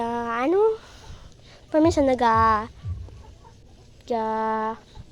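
A hen clucks loudly nearby in short bursts of bright, tonal calls separated by pauses, with soft scratching and rustling between them.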